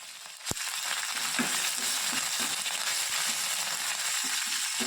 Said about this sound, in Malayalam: ചെറിയ ഉള്ളി മൂത്തൊരു ബ്രൗൺ കളറായി തുടങ്ങുമ്പോഴേക്കും അതിലേക്ക് കുറച്ച് കറിവേപ്പില കൂടിയിട്ട് മൂപ്പിക്കുക